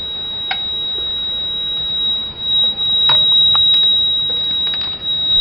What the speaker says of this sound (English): the buzzer beeps only when there is a rapid change in roll angle